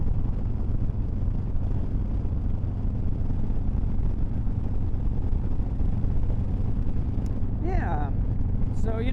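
Strong outdoor wind buffets the microphone with a constant, loud, low roar for the whole stretch, and a brief voice cuts in near the end.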